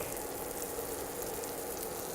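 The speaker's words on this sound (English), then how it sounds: "we're just going to place our tenderloin in our pan, and you can kind of hear it sizzling a little bit there" Beef tenderloin sizzles in a hot cast iron pan with a steady, even crackling hiss that stays constant and fairly quiet, and no voices.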